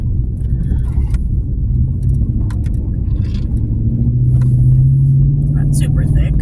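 A snow-covered truck driving along, its steady low engine rumble and road noise constant throughout with a faint rise near the end, plus a light jangle of keys and speech over it.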